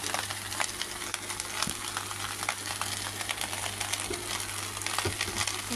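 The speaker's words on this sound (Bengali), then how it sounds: "এখানে সজনে পাতাগুলো আমি নেড়ে ছেড়ে দিলাম" Drumstick leaves sizzle and crackle in an oily pan while being stirred, a steady dense frying hiss with occasional scrapes and knocks of the spoon close by, no voices.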